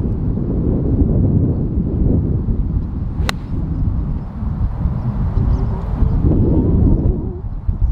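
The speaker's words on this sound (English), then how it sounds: "That wind's a lot stronger than what you think, isn't it?" Strong wind gusts across an open golf course, producing a loud, continuous low buffeting rumble against the microphone that swells and eases slightly, with one brief sharp click partway through.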